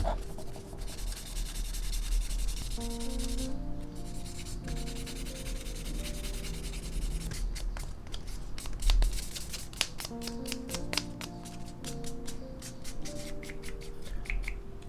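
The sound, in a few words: sanding Gunpla model kit parts smooth before priming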